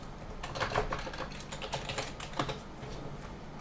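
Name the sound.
typing a name and password on a computer keyboard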